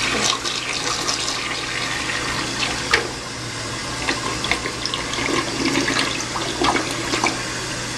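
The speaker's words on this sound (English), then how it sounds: "It's kind of a, maybe not the best flush." A cracked-tank 1988 Murray Savoy toilet flushes in one steady, loud rushing wash of water that runs the full length, with gurgles and splashes rising near the end.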